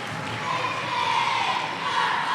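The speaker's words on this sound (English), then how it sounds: "Nice round of applause for the young man" Crowd applauding an injured young player at a 5th grade boys basketball final, steady dense clapping and murmur from the stands with a broad continuous wash, no clear voice on top.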